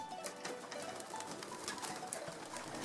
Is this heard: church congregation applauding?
no